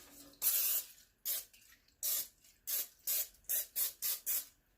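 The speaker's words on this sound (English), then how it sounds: "I'm going to spray the pan." Cooking spray being sprayed into a cake pan for a chocolate espresso cake, one longer hiss followed by a run of short, sharp bursts, close and fairly loud.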